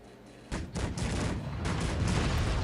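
A volley from 100 fully upgraded cannons in the strategy game Cossacks 3 erupts as a rolling fusillade of booming shots, loud, dense and overlapping after a brief quiet start.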